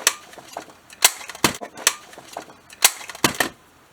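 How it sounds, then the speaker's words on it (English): Sharp, crisp clicks from a paper punch notching paper, about eight snaps spaced irregularly over a few seconds, close and fairly quiet. "I'm going to take my punch again that I used. Just cut a little notch out"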